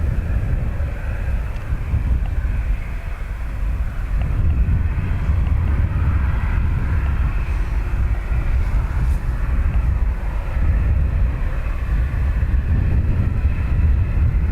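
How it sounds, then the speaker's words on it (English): Ryanair airliner taking off from Dublin Airport bound for Gatwick, a steady broad jet roar with heavy low rumble that holds strongly for the whole stretch, with some wind buffeting on the microphone and no talk. "Ryanair off to Gatwick"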